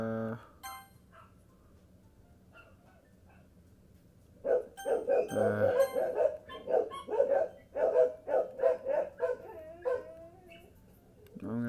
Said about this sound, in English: I'm gonna go figure out why the dogs are freaking out.